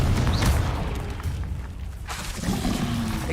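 Fiery blast of the Confringo spell in the Hogwarts Legacy video game, a loud booming burst with a rumbling tail that swells again near the end, close and continuous with no talk over it.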